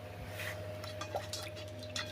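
Water is poured for washing hands at home, heard as faint, quiet drips and small trickles over a low background hum.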